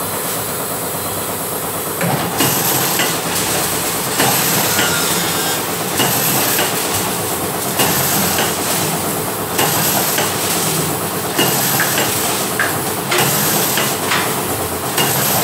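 An aluminium container making machine runs loud and close, with a dense mechanical clatter and a regular thumping press stroke roughly every second over a constant hiss.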